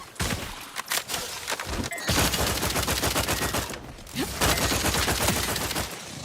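Gunfire in The Outer Worlds 2 hits as a few opening shots, then long sustained automatic bursts, loud and close, with a short pause before another heavy volley.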